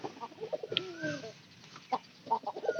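Several pigeons cooing close by, soft throaty bursts and warbling calls overlapping in an uneven rhythm, with brief gaps between.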